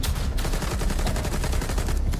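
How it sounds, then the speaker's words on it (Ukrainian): Rapid, continuous gunfire rattles steadily throughout, dense repeated shots like automatic weapons in a game, loud and unbroken. "Якось дивно він стріляє по мобам"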